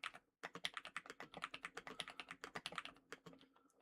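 Rapid, close keystrokes on an Epomaker HE75 v2 TMR keyboard, a mechanical versus Hall effect board, clattering in a dense, uneven rhythm after a brief pause and continuing steadily.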